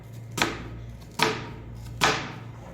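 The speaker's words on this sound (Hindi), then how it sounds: "इसी तरीके से हमने बारीक बारीक प्याज को काट लेना है।" A knife chops onion finely on a board, giving three sharp, evenly spaced chops at close range over a low steady hum, with no talking.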